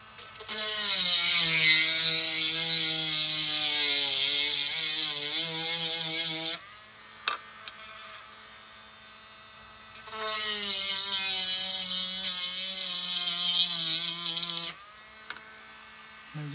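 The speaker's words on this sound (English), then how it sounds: "we're going to take this guy and we're going to drill down through there" Flex shaft Dremel drilling through a metal spoon, a whining high-pitched motor tone whose pitch wavers under load, running in two long bursts separated by a quiet pause.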